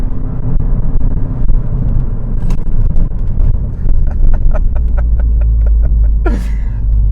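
Loud 520hp Mountune m520 Ford Focus RS engine roaring as it accelerates nearby, with a rapid series of crackling pops and a rising whine near the end.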